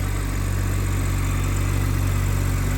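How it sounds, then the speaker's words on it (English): BMW M140i with a twin-turbo straight-six engine idling in a steady, even low rumble, close and continuous with no talking. "This is the 335 brake horsepower straight 6 engine."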